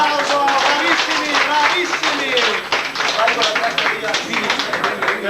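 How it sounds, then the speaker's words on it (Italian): A studio audience applauds after a song, with dense, steady clapping that stays loud and close for the whole stretch, mixed with scattered cheering voices. "Un bel applauso, bravissimi,"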